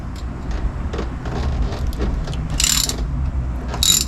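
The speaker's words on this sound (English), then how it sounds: "I'm gonna go ahead and take that screw out." A ratchet with an E-socket backs out a screw on a 2022 Sea-Doo GTI SE, giving steady close mechanical clicking and grinding over a low rumble, with two brief higher rasping bursts near the end.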